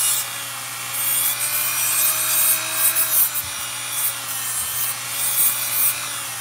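A steady high-pitched electric whine runs throughout, a nail drill shaping short fingernails up close, with slight pitch dips and faint scraping.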